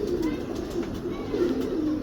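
A female pigeon coos in soft, low repeated calls close by, with faint background noise and no talk.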